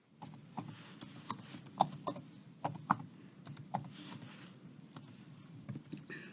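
Fingers typing a short name on a computer keyboard, a quiet, irregular run of distinct clicks with a few firmer taps, close and alone over faint room hum.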